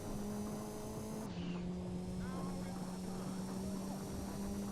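A Ford Escort rally car engine in the video game Gran Turismo 2 drones steadily at a constant pitch that dips once early on, with faint tire noise and a voice murmuring underneath.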